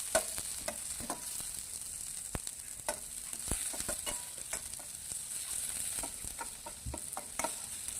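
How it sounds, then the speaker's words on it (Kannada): Crushed garlic and chopped onion frying for a chicken curry, a continuous bright sizzle with scattered clicks and scrapes from stirring, close up and steady with no talking. "ಈಗ ಒಂದು ಸ್ವಲ್ಪ ಹೊತ್ತು ಇದನ್ನು ಫ್ರೈ ಮಾಡ್ಕೊಳ್ಳುವ."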